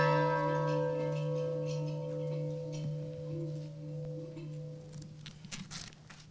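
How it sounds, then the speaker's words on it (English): A ceremonial bell tolls at a graduation, its long steady ringing tone sustained and decaying slowly, with faint scattered noises from the gathering and no speech. "We proclaim our preparedness and we toll the bell."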